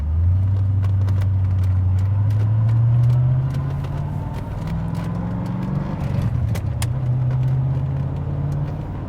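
A 1988 Corvette C4 35th Anniversary edition with a manual gearbox drives along, its engine drone holding steady, dipping as a gear changes and then climbing again under constant road and wind noise.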